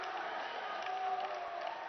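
Team members cheer at a robot competition, the ABU Robocon 2022 India knockout matches, a steady wash of crowd voices and shouts sustained throughout at moderate distance.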